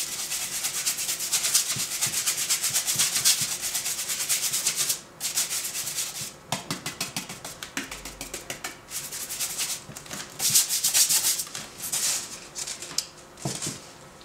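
A nearly dry brush scrubs paint onto a replica gun magazine during weathering, making close, steady scratchy bristle rubbing in quick strokes with short pauses between passes.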